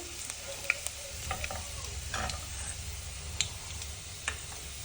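Mustard seeds and other ingredients are stirred into hot oil in a pan for a Bhogi festival vegetable dish, with a soft continuous sizzle under scattered scrapes and clicks of the spoon.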